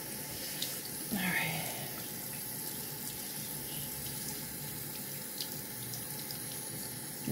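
Tap water runs steadily from a faucet as a bird is wetted for cleaning, a soft continuous splash with a brief louder gush near the start and faint handling noises.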